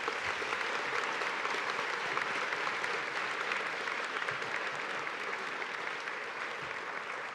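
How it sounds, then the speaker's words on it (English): A crowd of families and classmates at a middle school graduation ceremony claps for the graduating students, producing sustained dense applause that holds steady and loud throughout, with faint background voices. "Can I just have one more round of applause for those students?"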